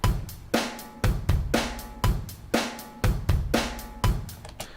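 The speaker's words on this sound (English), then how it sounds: "So now our drum loop sounds like this." A programmed MIDI drum loop in Cubase plays on its own with punchy kicks, snappy snares and ticking hi-hats in a steady, even groove.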